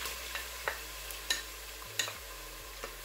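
Onions fry in a pan for Nigerian egusi stew, giving a low steady sizzle broken by several sharp scraping knocks as a spoon stirs them, close by and with no voices.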